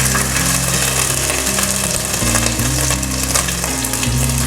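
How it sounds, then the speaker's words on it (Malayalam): Chopped ginger frying in hot coconut oil in a pan, a loud, dense, continuous sizzle with steady crackle and faint clinks throughout. "എണ്ണ ചൂടായിട്ടുണ്ട്. ഇനി നമുക്ക് അതിലോട്ട് അരിഞ്ഞു വെച്ചിരിക്കുന്ന ഇഞ്ചി ചേർക്കാം"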